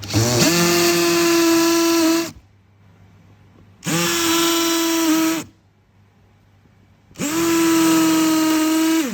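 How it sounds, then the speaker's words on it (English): A power drill whines loudly in three separate bursts of about two seconds each, drilling out spot welds on a Tesla Model 3, with short quiet pauses between them. "you just need to drill it to remove the point"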